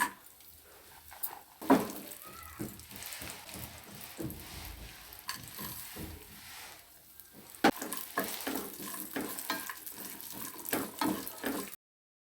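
Dry fruits such as raisins frying in a couple of spoons of ghee in a pan, a steady close sizzle broken by repeated scraping and clinking of a spoon stirring, with no one talking.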